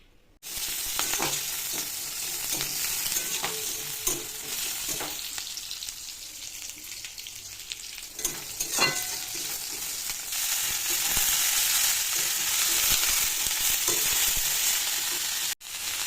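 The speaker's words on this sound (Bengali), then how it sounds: "এবার বাঁধাকপি ভাজাটা করে নেব" Continuous loud sizzling of cabbage frying in a pan, with occasional scraping stirs and brief clinks, no talking.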